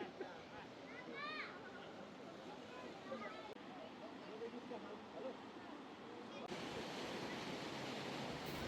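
Fast, turbulent Bhagirathi river meeting the Alaknanda at the Devprayag confluence, a steady broadband roar of rushing water that swells louder near the end, with faint high bird-like chirps early on.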